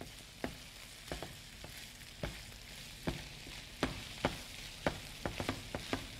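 Fresh garlic frying in a pan for a rigatoni casserole gives a steady low sizzle with repeated sharp pops and crackles spread through, and no talk.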